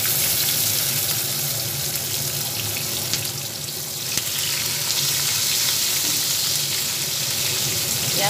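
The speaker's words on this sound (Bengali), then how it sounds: "পুরো পেঁয়াজগুলোকে এর মধ্যে দিয়ে দিচ্ছি। একদম কমিয়ে নিয়ে এগুলো ভেজে নিচ্ছি।" Chopped onions fry on low heat in a pan, giving a loud, continuous hissing sizzle that holds steady throughout with only a brief dip midway.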